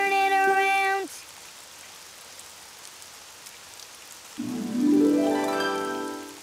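Steady rainfall hisses throughout in the Daniel Tiger's Neighborhood video game, while a sustained tonal sound fades early and another rises and swells near the end.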